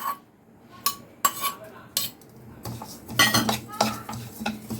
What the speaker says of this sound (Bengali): এই তিলটাকে এখন আমি একটু ভেজে নেব হালকা করে